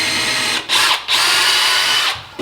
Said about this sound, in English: Let me drill